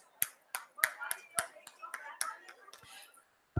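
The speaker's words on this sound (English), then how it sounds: "A round of applause to this." Scattered handclaps from a small audience at a National Woman's Parliament chapter launch in Mumbai, sharp separate claps spaced irregularly over a few seconds, fairly close and moderately loud, with a final clap at the very end.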